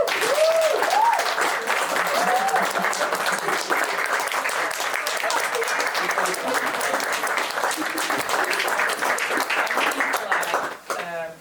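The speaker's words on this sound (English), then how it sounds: "Can we get a round of applause?" Audience applause at a talk-show style community event, a dense, steady wash of clapping lasting about eleven seconds at even loudness, with brief cheering voices near the start before it fades at the end.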